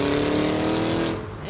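Cadillac Escalade V pulling out of a car show, its engine a loud, close, steady drone with a strong low tone that fades slightly as it moves off.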